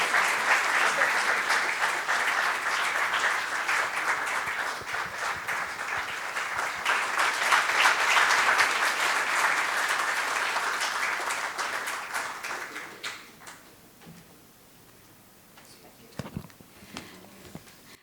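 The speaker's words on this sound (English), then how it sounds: "Once more, a huge round of applause for them." An audience at the Bombay Chamber's 189th Foundation Day celebration applauds in sustained, full clapping that tapers off after about twelve seconds, leaving a quiet room with a few faint sounds.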